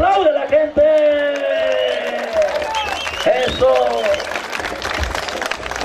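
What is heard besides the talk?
crowd applauding at a village festival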